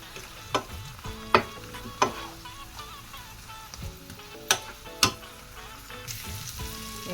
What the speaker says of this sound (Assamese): সেইখিনি ভালদৰে মিক্স কৰি ভাজি লৈছোঁ